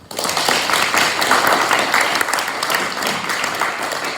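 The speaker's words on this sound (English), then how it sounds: "round of applause" An audience breaks into applause after a nutritionist's talk at a camp session, loud, dense clapping that starts abruptly and holds steady for several seconds.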